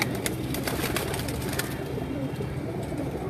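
Black flying pigeons coo softly in a low, throaty murmur amid busy background noise and scattered light clicks.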